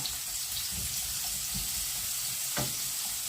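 Hot oil sizzles steadily in a pan before young cabbage goes in, a close, continuous hiss with a few faint clinks, and no talk.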